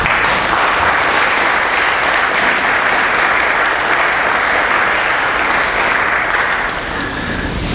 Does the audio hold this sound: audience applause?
yes